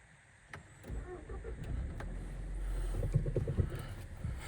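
A 2011 Volkswagen Touran with a 1.4 TSI petrol engine is started from cold; a brief starter whir rises into a steady low idle hum, heard close with faint clicks and some cabin noise.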